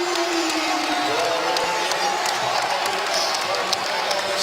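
A college basketball crowd in an arena cheers after a three-pointer in Boston College against Duke, a sustained loud roar with whoops and claps, while a commentator talks over it.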